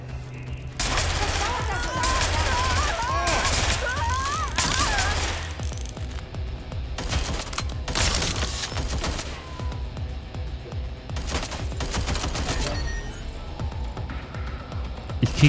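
Bursts of automatic gunfire in the Watch Dogs Legion video game, loud rapid volleys rattling almost continuously with brief gaps, under occasional voice chatter.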